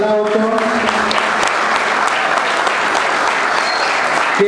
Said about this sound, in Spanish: el amigo Gustavo Cantero, para el cual pido un fuerte aplauso